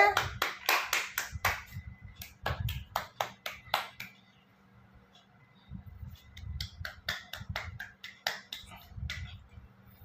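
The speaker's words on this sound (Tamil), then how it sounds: "கைத்தட்டு கைத்தட்டு கைத்தட்டு கைத்தட்டு செல்லாம்" A child clapping hands at home, a series of sharp, close claps in uneven bursts with short pauses, while an adult voice talks softly in between.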